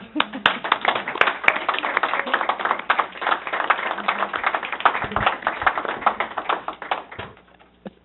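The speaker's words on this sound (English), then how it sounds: "I thank you and give you a round of applause" Applause for retiring members at a board meeting, crisp and fairly close with many overlapping claps in a steady patter, sustained for about seven seconds before tapering off.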